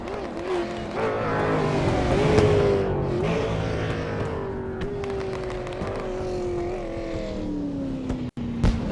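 A race car in a CARS eSport Tour sim race at Lanier National Speedway drones loudly and continuously, its engine pitch sliding slowly downward, with no voices over it.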